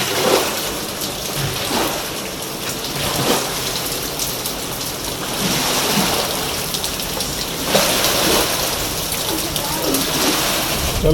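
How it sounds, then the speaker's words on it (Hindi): Heavy rain pouring in a continuous loud hiss, swelling in waves with a few brief louder bursts, close and steady throughout with no clear talk. "कल से जो बारिश हो रही है ना, उसने बड़ा बुरा हाल कर रखा है चीज़ों का।"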